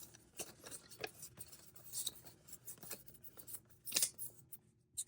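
A sheet of 1982 Fleer baseball stamps is folded, giving soft, close paper crinkles and rubs in a quiet, irregular sequence with a brief louder rustle near the end.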